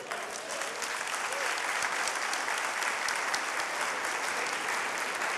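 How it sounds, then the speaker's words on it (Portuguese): A congregation in church breaks into steady, dense applause that holds at an even level throughout, with no voices over it. "Aplauda o Senhor."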